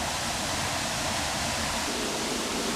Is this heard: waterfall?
yes